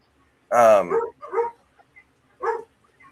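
Several dogs barking indoors, three short bursts of loud, close barks separated by brief pauses.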